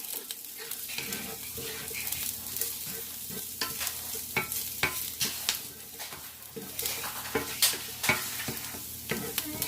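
Garlic sizzles steadily in a hot pan on medium-high heat for a Greek moussaka, with repeated scraping and stirring strokes of a utensil against the pan, close and continuous with no talking.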